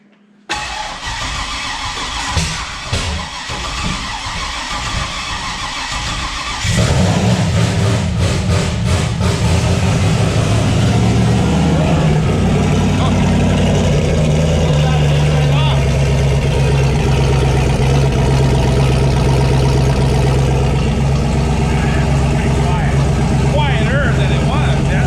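A turbocharged 5.3 LS V8 in a Mustang cranks a few times, then fires into a loud, steady, rumbling idle close by.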